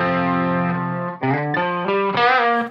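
Electric guitar through a Boss ME-90 multi-effects unit with hall reverb on, playing a sustained chord and then several ringing notes, loud and close, each tail washing into the next.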